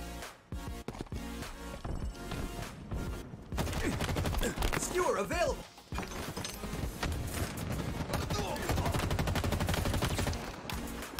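Repeated gunfire in the video game Halo Infinite: dense volleys of shots, loud and close, with game noise throughout and a brief lull midway.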